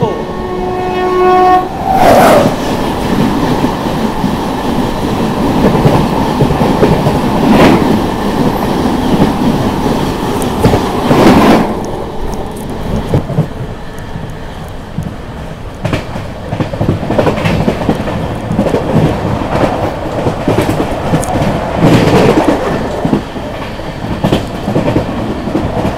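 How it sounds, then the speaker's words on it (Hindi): The 12312 Kalka–Howrah Netaji Express, hauled by a WAP-7 electric locomotive, passes loudly and close with a horn near the start, then a long rumbling roar with rhythmic clickety-clack of wheels over rail joints. A voice is heard briefly. "दोस्तों सामने से आ रही है 12312 कालका हावड़ा नेताजी एक्सप्रेस वैप 7 के साथ में"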